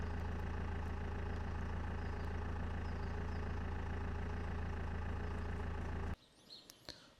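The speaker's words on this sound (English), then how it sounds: "Engine is running" A BMW E87 engine idles after a fuel filter change with a steady, low, droning hum. The hum cuts off abruptly near the end, leaving faint bird chirps outdoors.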